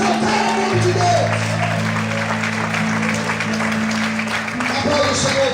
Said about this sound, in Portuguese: Todos podem aplaudir e exaltar o nome de Deus.